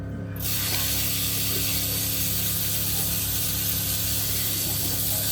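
Steady mechanical ratcheting of a hand wrench working on a turbo street car, a continuous clicking texture with a constant background hum and no talking.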